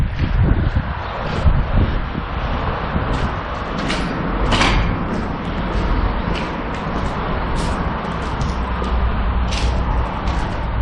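Strong wind buffets the microphone at an abandoned roadside car workshop, a steady low roar with gusty surges and occasional rattling knocks, continuous throughout with no talking.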